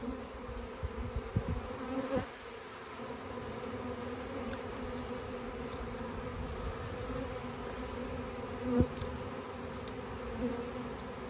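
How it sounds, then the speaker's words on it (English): A dense hum of honeybees buzzing around a hive entrance, a steady droning swarm with occasional louder fly-bys passing close, quiet overall and with no voices. "Consistently, more and more bees are coming in here."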